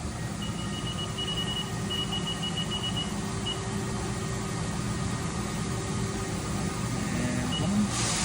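A 2019 Haas ST-15Y CNC lathe traversing along its Z axis gives a steady, even machine hum with a faint intermittent electronic beep, continuous and close by with no talking.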